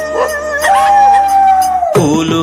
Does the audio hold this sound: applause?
no